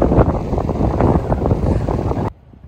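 Strong wind gusts buffet the microphone outdoors in a garden on a warm day, a loud, steady roaring rush that cuts off abruptly near the end.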